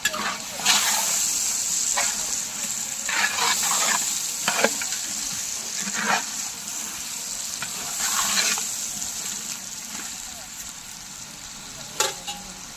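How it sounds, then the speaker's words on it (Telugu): Chicken fry curry being stirred in a sizzling pan after salt is added, a constant frying hiss broken by repeated scraping and clinking of the spoon. "సరిపడ ఉప్పు వేసుకొని మళ్ళీ ఒకసారి కలుపుకో మళ్ళీ కలుపుకోవాలి"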